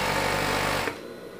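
A sewing machine runs at speed stitching a collar around the neckline of a Mickey Mouse pet sweatshirt, a close steady whir that cuts off abruptly near the end, leaving quiet.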